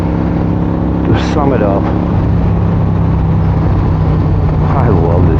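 A 1986 Harley-Davidson FLTC Tour Glide motorcycle, low on fuel, rumbles loudly and steadily up close while riding, with wind roar over the engine and someone talking over it.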